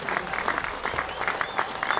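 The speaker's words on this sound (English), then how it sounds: "Warm applause for Dom Bess from the Yorkshire faithful." Yorkshire faithful give warm applause at a one-day cricket match between Yorkshire Vikings and Leicestershire Foxes, a steady ripple of clapping from a sparse crowd, moderately distant, with faint commentary voices underneath.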